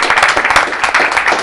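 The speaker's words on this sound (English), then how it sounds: "I want to go back for just a second and clap for our Lynchburg Police Department" Audience members at a school board meeting clap together in a brisk, uneven burst of handclaps, fairly close and loud, with no talk over it.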